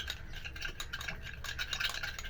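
A mixture of egg, alum and aloe vera gel being stirred in a bowl, giving a continuous soft scraping and rattling with quick irregular strokes at close range.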